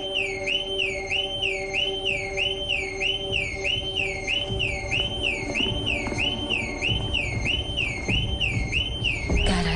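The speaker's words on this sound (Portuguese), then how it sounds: "Por que o alarme está ligado?" A house alarm sounds in a garage with an open door, its warbling electronic tone repeating in a steady, fast rhythm. It stays loud and continuous for the whole stretch over a low background rumble, and no one speaks.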